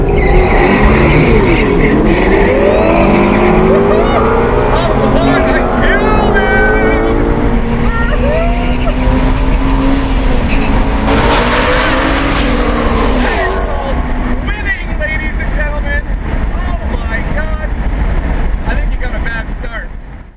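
A Ford Mustang Shelby GT350 launches hard off the line on a track, its V8 roaring loud and rising through the revs with tyre noise, then fading as it pulls away, with someone talking briefly over it.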